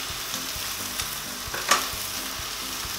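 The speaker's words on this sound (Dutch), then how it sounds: "Dit bakken we dan even 2 minuutjes, zodat de smaken helemaal vrij komen." Red curry paste sizzles and crackles steadily in a hot pan, with a few soft scraping stirs and a brief louder spatter.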